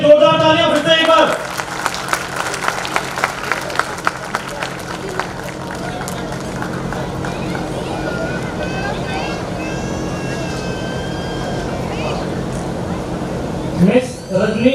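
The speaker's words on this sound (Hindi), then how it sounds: "ईडी सर और मैम के लिए जोरदार तालियां फिर से एक बार।" Sustained crowd applause for the ED sir and madam at a Dr. Ambedkar Jayanti 2019 function, a broad even roar of clapping that holds steady, with brief voices at the start and end.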